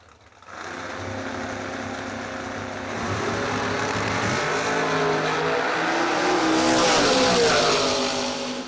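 A dragster and a Camaro race down a drag strip in a bracket event, a sustained loud engine roar that builds and rises in pitch as they accelerate, heard from the trackside.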